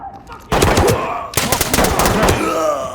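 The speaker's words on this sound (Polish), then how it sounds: "Strzały, strzały." Rapid bursts of gunfire in a game, loud close volleys of automatic shots in two stretches separated by a short pause, with a voice faintly underneath.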